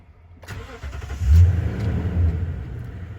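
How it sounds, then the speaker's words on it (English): A truck engine with a jump-started battery cranks briefly and catches, then rumbles and revs up loudly before settling into a steady idle, close by. "Now I'll go ahead and crank it over."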